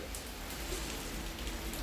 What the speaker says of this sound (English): Is the rain hitting the steps here?